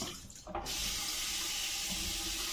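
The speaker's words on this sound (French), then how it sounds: "On va mettre un demi-litre d'eau à peu près." Tap water runs steadily into a cooking pot as water is added for a baby food recipe, a continuous close splashing hiss after a brief start, with no talking.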